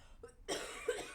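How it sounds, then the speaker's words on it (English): A person coughs once, close and loud, after a brief throat sound, with no speech around it. "I just triggered a cough."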